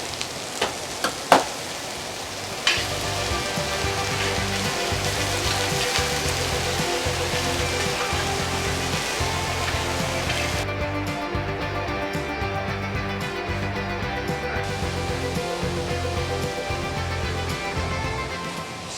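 Onions sizzle steadily in a frying pan, a continuous dense crackle and hiss like rain, after a few sharp clatters at the start, with no talking.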